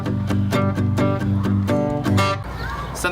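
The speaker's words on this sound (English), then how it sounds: "Another cool technique you can do is palm muting." Palm-muted strumming on a guitar, with short, choppy chords in a quick, even rhythm, each stroke dampened and clipped, then a final chord left to ring briefly, close and clear with no talking.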